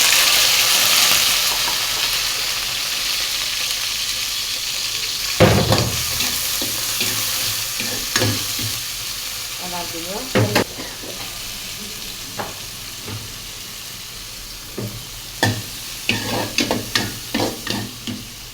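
Red shrimp fry in a pan with a steady close sizzle, punctuated by scraping stirs and sharp clinks of a utensil that grow more frequent toward the end.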